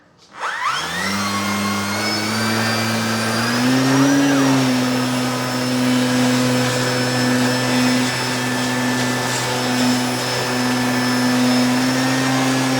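An E-flite 4-Site 800mm 3D flat foamy RC plane's electric motor spins up from silence and holds a steady high whine with propeller buzz at about half throttle, close up, with a brief pitch rise in the middle.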